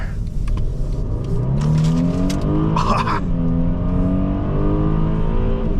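A 2015 Mercedes-Benz E350 4MATIC accelerates hard in sport mode, its engine note climbing steadily through the revs from inside the cabin, loud and continuous, with a gear change midway.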